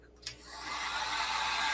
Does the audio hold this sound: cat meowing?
no